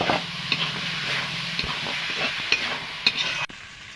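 Chana dal tipped into a hot pan of ground chilli, cumin, coriander and turmeric paste fries with a steady close sizzle, while a spoon stirs and scrapes with a few sharp knocks before a sudden stop.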